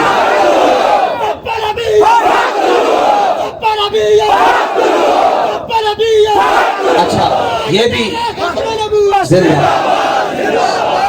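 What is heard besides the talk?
crowd chanting religious slogans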